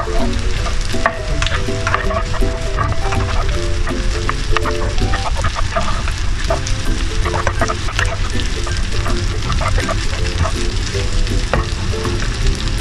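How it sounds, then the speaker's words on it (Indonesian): Nasi goreng fried rice being stirred in a hot pan at home, with a steady, continuous sizzle and frying crackle and repeated scraping of the utensil against the pan, close and loud throughout, with no talking. "Kita aduk terus sampai rata."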